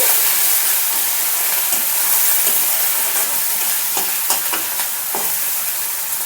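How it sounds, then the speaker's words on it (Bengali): Tomato and Kashmiri chili spice masala stirred in a frying pan, a loud constant hissing sizzle with occasional spatula scrapes and taps, close and steady, no voices. "খুব ভালোভাবে নাড়িয়ে নিচ্ছি"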